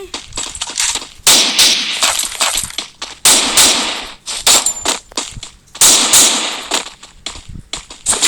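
Repeated gunshots in the Free Fire video game, fired in quick bursts and single cracks across the whole stretch, loud and close with short gaps between volleys.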